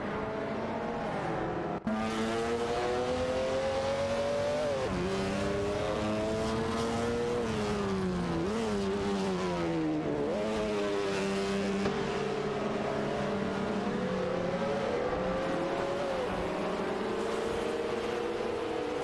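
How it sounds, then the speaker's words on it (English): Several AI-driven race cars in a racing video game thread through a tight section of track, their engines droning loudly and continuously with pitch rising and falling as they brake and accelerate, no voices present. "All 3 cars are now entering a tight section of the track, where overtaking opportunities can be risky."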